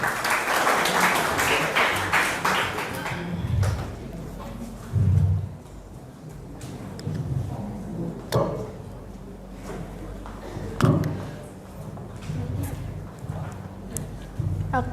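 Audience applause for high school students at an SMA 8 Bekasi school event, a dense burst of clapping in the opening seconds that fades into scattered claps and room noise with voices.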